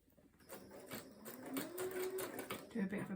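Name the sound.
sewing machine back stitching a baby memory quilt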